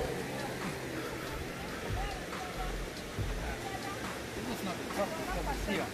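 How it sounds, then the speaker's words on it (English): A steady broadband rush of falling water at the top of the main waterfall at Sipi Falls, Uganda, continuous and fairly distant-sounding, with voices audible over it. "We have reached the top of the main waterfall."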